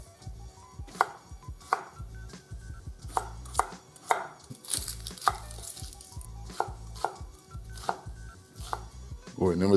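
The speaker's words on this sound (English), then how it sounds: "Cut the carrot into bite-sized pieces" Knife chopping a peeled carrot into bite-sized pieces on a cutting board, about a dozen crisp, evenly spaced thunks close up, with no voices.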